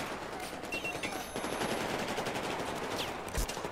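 Rapid bursts of video game gunfire crackle loudly and continuously in a multiplayer shooter battle, with machine-gun fire and single shots layered over a dense background din.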